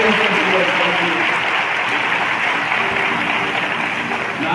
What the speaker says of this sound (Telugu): ఇది ఇంకా చప్పట్లు కొడుతుంటే ఇంకా సంతోషంగా అనిపిస్తుంది.